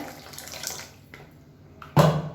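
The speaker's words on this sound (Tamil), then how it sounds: "அப்படியே சுடு தண்ணியை சேர்த்துக்கிறேன்." Hot water splashes into a pot of tamarind curry (kuzhambu) with a short, sudden pour near the end, after quieter kitchen stirring and clinks.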